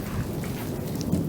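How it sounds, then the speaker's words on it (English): Heavy rain pours steadily during a thunderstorm with a flash flood, a dense loud wash of falling water with low thunder rumbling underneath throughout. "Oh, I love the rain."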